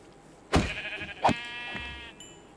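Two short video game sheep bleats a moment apart, clear and close, with a faint electronic chime at the end.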